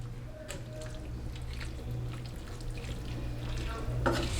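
Parmesan being stirred into skillet ravioli in a tomato spinach cream sauce, a steady low sizzle and wet stirring in the pan, close and moderately quiet, with a few light clinks.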